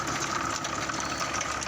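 A Mahindra 570 tractor engine runs steadily with a rotavator attached while working a small field, a continuous close, even mechanical drone with a busy rattling texture throughout.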